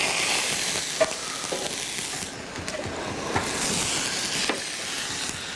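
Lobster cooking on a grill, a continuous loud hiss and sizzle with a few faint clicks and pops, heard alone at close range.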